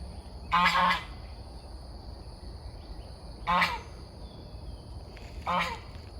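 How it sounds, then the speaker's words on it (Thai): Three loud goose honks, spaced a few seconds apart, ring out over a quiet farm garden after rain. "ก็จะเสียงห่านก็จะดัง ก็จะเดินร้องแบบนี้ค่ะ"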